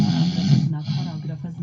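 A man snores loudly in deep, rasping, rumbling breaths that run almost continuously. Other voices may be faintly audible beneath it.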